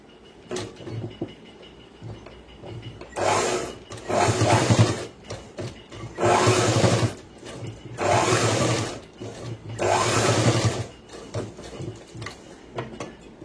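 An electric sewing machine stitches boys' school uniform pants in several runs of a few seconds each, a close, steady rapid whirring chatter separated by quiet pauses with faint handling of cloth.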